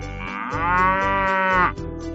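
A single long, loud cow moo rises and holds steady before cutting off, heard alone as a sound effect with no talking over it.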